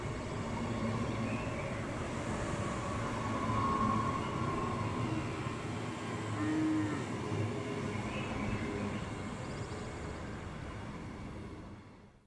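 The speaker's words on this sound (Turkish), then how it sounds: "Tren gidiyor bak, tren gidiyor" A train passing near a village in the Turkish countryside, a steady loud rumble with faint squeals that holds for the whole stretch and fades away at the end.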